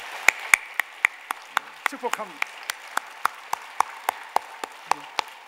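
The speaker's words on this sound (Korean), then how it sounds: "우리 그 모든 장로님들과 집사님들을 위해서 한번 또 박수 한번 합시다." A church congregation at a Wednesday worship service claps in unison with a steady, even beat, each clap crisp and distinct, while a voice speaks briefly over the clapping.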